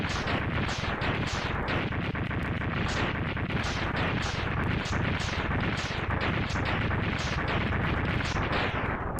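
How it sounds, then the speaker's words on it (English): Rapid chain of game explosions and gunfire from Mega Man X2, a dense, continuous barrage of loud blasts in quick rhythmic bursts with no pauses, filling the whole stretch without talk. "There's a lot of explosions."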